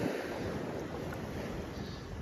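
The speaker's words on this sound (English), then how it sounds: "the sound of waves, isn't it? Don't you agree? It's just so relaxing" Steady wash of sea waves rolling in at Cleethorpes beach in winter, a continuous broad roar with light wind noise, no voices.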